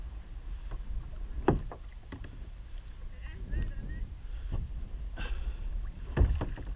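Kayak dragged and pushed through shallow lake water at Carter Lake, with soft scraping, sloshing and thumps of the hull, plus light wind noise on the microphone.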